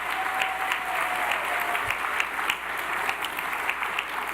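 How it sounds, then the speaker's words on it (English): Sustained audience applause at a National Association of Black Journalists event in New Orleans honoring a Lifetime Achievement Award recipient, steady dense clapping filling the whole span without talk. "Please, another round of applause for Dwayne."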